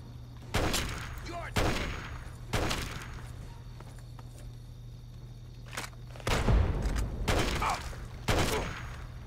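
Gunfire in the video game Fallout 3 rings out in loud, sharp bursts roughly every second, trailing off, then a heavier blast from a frag grenade followed by more shots.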